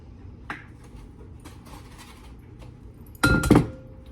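Eggs cracked into a bowl for Yorkshire pudding with herbs: a quiet tap near the start, then a louder cluster of sharp clinks and cracks against the bowl toward the end, with no talking.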